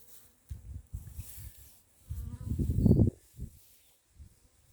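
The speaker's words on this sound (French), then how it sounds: "la bouteille qui est remplie de frelons, voilà, et il n'y a que des frelons dedans" Hornets trapped inside a bottle wedged between two beehives give off loud, rough buzzing in uneven bursts, strongest near the middle, heard up close with no talk.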